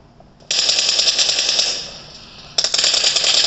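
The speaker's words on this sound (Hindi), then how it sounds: "Reloading." A weapon reloads in PUBG Mobile with a bright metallic mechanical clatter, a two-second burst of rattling parts, a brief dip, then a second sharp burst snapping in, near and loud with no talk.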